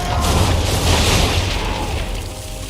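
Ship cannons fire a volley in the naval battle of the video game Assassin's Creed III, producing a sustained loud booming roar that rumbles on and slowly fades, with no voices over it.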